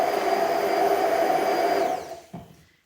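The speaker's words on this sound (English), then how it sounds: "I'm going to blend it again just to break up those basil leaves" A kitchen blender runs steadily on tomato and basil salad dressing, a loud close whirring drone that holds for about two seconds, then winds down to silence after a brief clunk.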